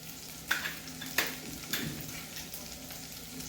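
Chopped garlic frying in oil in a pan for Dhaba-style lasooni palak, a soft steady sizzle with a few sharp clinks of a spoon against the pan.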